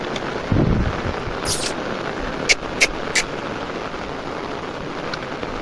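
Rain falls in a steady broadband hiss after a hot, sunny morning, an even wash throughout with a dull thump early on and a few sharp clicks near the middle.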